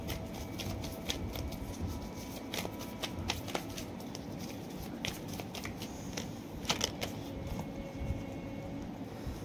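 Tarot cards being shuffled by hand, a soft steady run of papery riffling and flicking with occasional sharper snaps, fairly faint and close, with no talking.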